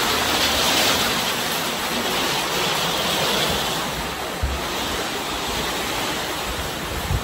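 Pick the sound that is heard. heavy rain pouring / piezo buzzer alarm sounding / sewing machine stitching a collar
heavy rain pouring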